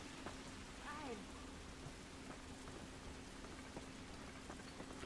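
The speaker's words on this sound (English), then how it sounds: "This rain ain't gonna do us any good." Rain pours in The Last of Us video game, a faint, even wash of drops with a few soft ticks and a brief whistling tone early on, continuous throughout.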